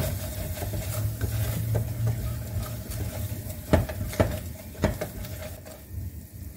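A spoon stirs biryani masala into a spinach biryani mixture in a sizzling pan, with soft continuous frying and a few sharper scrapes against the pan midway.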